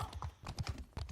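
Horse hooves clip-clopping in a video game, a quick run of several hoofbeats, close and fairly soft, heard alone.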